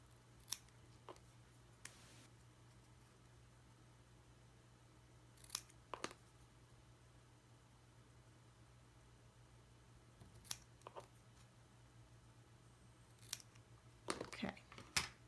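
Scissors cut apart a printed paper sheet for a mixed-media altered box craft, with a few crisp snips spaced out over quiet room tone and a quick cluster of cuts near the end.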